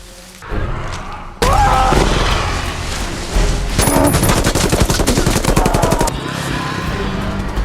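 Film gunfire from snipers on an island, with a sudden loud boom followed by dense rapid bursts of shots and heavy thuds, close and intense, under a dramatic soundtrack.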